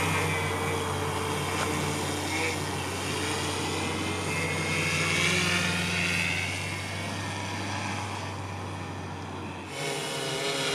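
PowerEYE m43 quadcopter drone launching and flying, a steady loud whirring motor drone that holds throughout and shifts slightly near the end.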